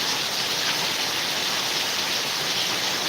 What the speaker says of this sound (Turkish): Sizler de yağmuru görmenizi istedim canlarım.